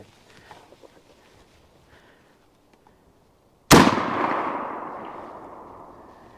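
A single rifle shot with a Winchester 255 grain soft point cartridge, from a .375 Winchester or .38-55 Winchester, a sharp loud crack after near silence, trailing off in a long echo across open ground.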